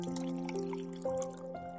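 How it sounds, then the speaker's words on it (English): Water pours into a glass in a kitchen at night, a short close gurgle whose tone rises in steps as the glass fills. "I went to the kitchen and poured myself a glass of water."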